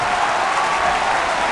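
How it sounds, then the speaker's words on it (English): A round of applause on a live stream, a dense, even wash of clapping that holds at a steady level throughout the brief moment with no voices over it. "let's give you a round of applause for that"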